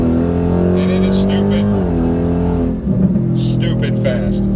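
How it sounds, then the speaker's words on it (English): A car engine winds up and holds a steady, loud, droning rev while waiting to launch in a roll race, with a brief dip and shift in pitch midway. "you can hear the car winding up"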